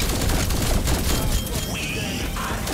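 Wonder weapon fire in Call of Duty zombies on the Mauer der Toten map, a dense continuous barrage of gunfire and booms packed tightly together, loud and sustained throughout with no pauses.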